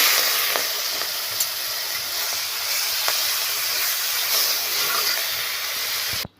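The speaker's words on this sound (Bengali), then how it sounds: "এবার আমি মাছগুলো দিয়ে দেব, চিংড়ি মাছগুলো দিয়ে দেবো" Prawns sizzle in hot oil in a wok, a loud, steady broadband hiss that runs almost unbroken for several seconds, with a few small pops and crackles, before it cuts off abruptly at the end.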